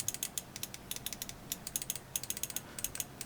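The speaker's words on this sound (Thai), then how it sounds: "ลองฟังเสียงคลิกคร่าวๆครับตัวนี้ Mechanical นะครับ" Crisp, fast mechanical switch clicks from an ATK Ghost Ultimate carbon mouse, many quick sharp ticks in uneven bursts, close and faint, with no other sound around them.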